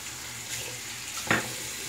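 A bathroom tap runs steadily to warm up a Super-Max Titanium razor blade, a continuous soft hiss of water with a brief splashier burst near the end, no voices.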